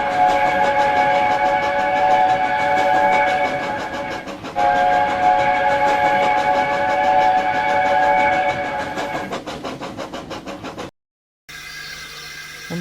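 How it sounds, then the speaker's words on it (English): A steam tender engine races along the line with its whistle blaring in long sustained blasts over rhythmic clattering wheels, loud and close, fading slightly before an abrupt cut to quieter rolling sounds. "a tender engine James didn't recognize raced down the line in the opposite direction, whistling fit to burst"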